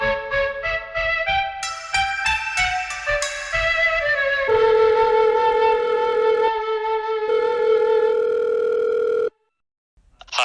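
A telephone rings with repeated electronic tones and trills, then holds a sustained ringing tone before cutting to silence ahead of a voicemail greeting.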